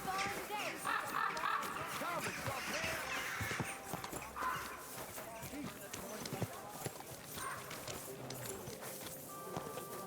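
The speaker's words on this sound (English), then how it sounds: "It's the first time I've seen a horse in here," Horse hooves clip-clopping in the medieval game Kingdom Come: Deliverance 2, a steady walking rhythm under game music and ambient noise, with a voice talking over it.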